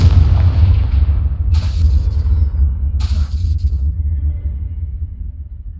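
A Confringo blasting spell in Hogwarts Legacy bursts into a loud, deep explosion that rolls into a long, heavy rumble, with two sharp crackling flares riding on top before it slowly fades.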